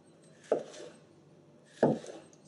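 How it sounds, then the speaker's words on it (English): A knife chops through capsicums on a cutting board, two sharp, close thuds about a second and a half apart with a short scrape after each. "Just cut them through the center, and then we're going to cut them in another 4."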